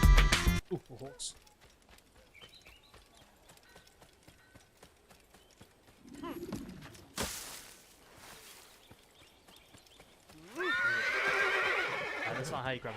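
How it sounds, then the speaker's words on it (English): A horse in the video game Assassin's Creed whinnies and its hooves clip-clop, with a loud neigh at the end, amid game sounds and brief effects. "Ooh, a horse."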